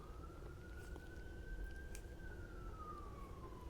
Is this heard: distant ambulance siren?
yes